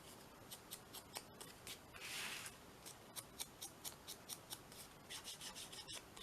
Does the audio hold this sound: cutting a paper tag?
yes